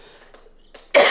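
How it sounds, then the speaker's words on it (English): After faint breathy noises, a single sharp, loud cough bursts out at close range. "Excuse me, I got a cough."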